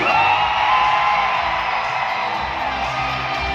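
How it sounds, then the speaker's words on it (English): A large crowd at a TWICE fan meeting in Manila screams and cheers in one loud, sustained roar that barely wavers. "Let me hear you scream!"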